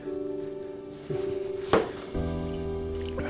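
Chopped hard-boiled egg, bread, salt and pepper being mixed in a bowl, a soft repeated scraping and squishing with a sharp utensil knock partway through, close and fairly quiet.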